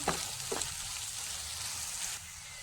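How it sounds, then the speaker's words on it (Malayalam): Chopped tomato and onion sauté in a pan for a Kerala curry, giving a steady, fairly quiet sizzle with a couple of soft stirring scrapes near the start. "സവാള ഒന്ന് വാടി വരുമ്പോൾ അതിലേക്ക് ഒരു ടൊമാറ്റോ അരിഞ്ഞത് ഇട്ട് കൊടുക്കാം. ഇട്ടൊന്ന് വാട്ടി കൊടുക്കാം."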